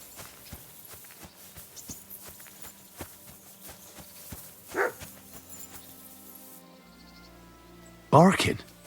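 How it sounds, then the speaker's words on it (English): Dog bark in Kingdom Come Deliverance II, a few sharp barks near the end following a single earlier bark, over ambient game sounds with hoofbeats and footsteps earlier. "Barking."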